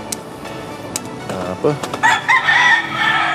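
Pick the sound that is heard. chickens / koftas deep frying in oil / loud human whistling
chickens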